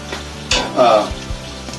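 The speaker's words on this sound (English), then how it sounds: "I can hear our steak down there cooking away." Steak cooking in a pan alongside a Gorgonzola Alfredo sauce with Parmesan and risotto, a brief mid-level sizzle with a few clinks of pan or utensil, quiet otherwise.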